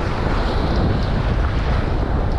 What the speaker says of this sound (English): Now we got a strong wind.